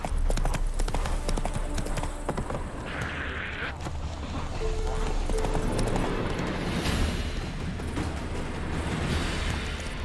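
Roach the horse gallops in The Witcher 3, with steady clip-clop hoofbeats running throughout over a constant outdoor rumble, close and fairly loud, with no talking.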